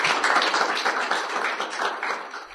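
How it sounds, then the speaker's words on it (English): Brief applause from an audience at a student programming awards ceremony, honouring an absent winner: a dense, steady patter of many hands clapping at moderate loudness for about two and a half seconds, with no voices over it. "quick applause for Julian"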